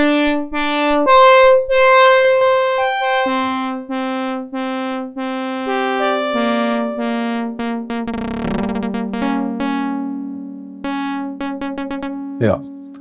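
Behringer UB-Xa analog synthesizer playing sustained harmonic notes and chords shaped by a looping attack-decay envelope, repeating swells over about thirteen seconds, loud and clear with no talking.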